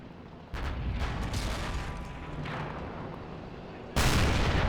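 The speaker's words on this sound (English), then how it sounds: "They're starting to shell our defenses." Artillery shells pound defensive bunker and trench lines in a 1944 Baltic offensive WWII game, with a sustained roar of distant shelling and a sudden louder blast near the end, no talking heard.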